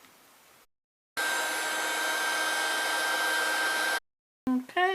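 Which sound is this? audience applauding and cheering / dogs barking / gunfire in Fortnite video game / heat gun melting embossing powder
heat gun melting embossing powder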